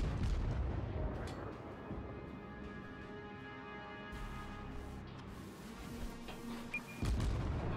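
Naval guns boom from a warship in the World of Warships game, a few heavy shots and rumbling blasts over a dense, continuous layer of battle noise and engine hum.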